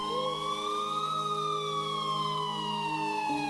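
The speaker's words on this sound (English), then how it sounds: "until I finally heard sirens in the distance" A police siren wails with a slow rising then falling tone, faint and distant, sounding steadily for a few seconds with no talking.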